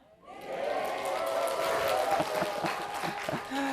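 Applause with a few cheers rises from an audience at a securities lecture in Yeouido, building quickly and holding steady at moderate loudness, with a voice speaking over it in places.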